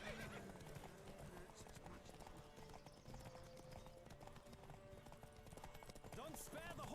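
Horse hooves clip-clop at a gallop during a race in The Witcher 3, with neighs and whinnies, all under steady game music and background voices.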